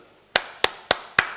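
Four crisp hand claps at an even, moderate pace, each snapping out sharply against near silence, close to the listener.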